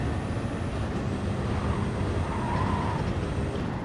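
An Audi R8 engine in the racing game Gran Turismo Sport drones steadily as the car runs on a track, with a constant loud broadband roar and no pauses.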